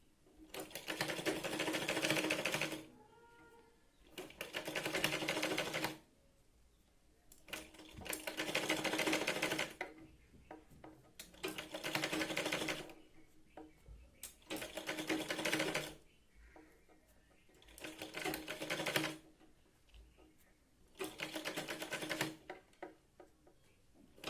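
A sewing machine stitches the seam of a Katori blouse in about seven steady bursts of rapid, close stitching, with short quiet pauses between runs.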